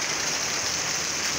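A downpour of heavy rain in the Potiguar region of Brazil makes a steady, even wash of hissing noise, close and continuous, with no talking over it.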